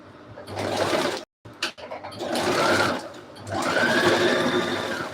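A sewing machine stitches two pieces of dress fabric together in three loud whirring runs, with a short pause and a few clicks between the first and second.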